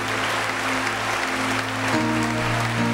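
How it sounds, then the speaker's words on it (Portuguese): A church congregation claps harder, with dense, even applause running the whole time beneath held keyboard tones, steady and moderately loud. "Vamos aplaudir com mais força ainda"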